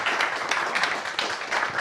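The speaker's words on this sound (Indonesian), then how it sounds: "Tepuk tangan dulu buat Adiani ya." An audience claps for Adiani in a football talk-show studio, a dense, steady patter of many hands filling the short moment with no voices over it.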